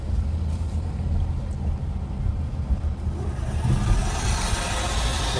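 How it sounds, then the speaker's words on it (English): A school shop class exhaust fan starts up near a high school, a broad low rumble and hiss that swells with rising airy noise toward the end, steady and fairly loud. "I'm guessing that's the shop class turning on their exhaust fan."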